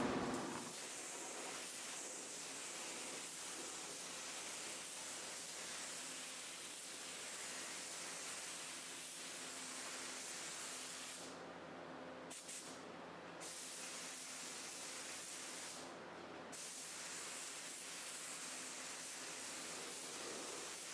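A steady, even hiss of spray paint on a car runs without a break throughout, broad and airy, with a few brief dips near the end.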